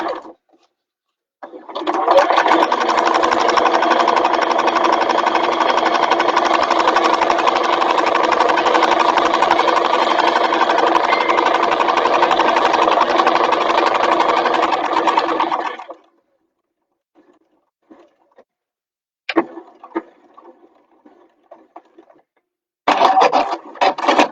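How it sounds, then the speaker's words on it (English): A Juki F600 sewing machine stitches a fabric bag in one fast, steady run of about fourteen seconds, close and even, then falls quiet apart from a few short bursts of stitching afterward. "Catherine, I use a Juki F600."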